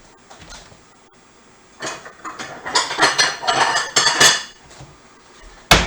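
Cooked carrots are tipped from a pan into a Chinese serving bowl in a rush of clattering, clinking utensil-on-dish scrapes that build after a quiet start and end with a sharp knock.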